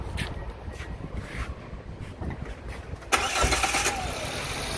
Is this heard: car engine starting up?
yes